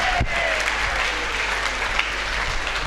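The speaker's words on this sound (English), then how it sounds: "Give yourselves a huge round of applause." An audience at a live choir show in a resort gives loud, sustained applause, a dense, unbroken wash of clapping.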